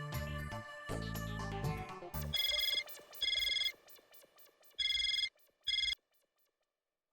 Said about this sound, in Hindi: मनोज भाई को फोन कर लीजिए ना